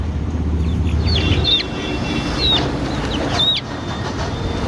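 Several chickens at a roadside poultry stall that sells country hens, laying hens and guinea fowl cluck in short chirpy calls over steady rumbling traffic-like background noise.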